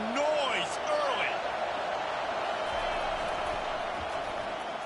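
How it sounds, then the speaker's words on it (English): A stadium crowd at a football game roars loudly in a steady wash of noise, with a play-by-play voice and whistle-like tones rising over it early on. "This crowd bringing the energy and noise early."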